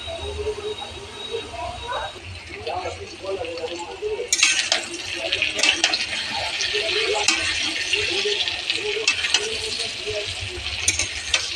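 Water is poured into a pan of cooking paneer curry. A steady, splashy pour begins partway through and continues to the end, while a person talks quietly at the start.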